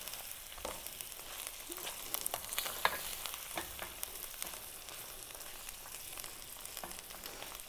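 Chorizo sizzles in a little olive oil in a preheated pan, a steady crackling fry with scattered louder pops and spits, close and fairly quiet, with no voices.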